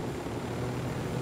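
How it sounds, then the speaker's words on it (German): Helicopter in the video game Ghost Recon Wildlands, a steady low rotor drone and engine rumble, continuous and fairly close, with no speech. "Hey, ein random Heli."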